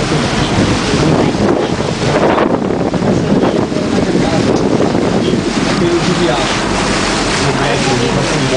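A boat under way on the flooded São Francisco River, with steady loud wind buffeting the microphone and a continuous rush of water, unbroken throughout.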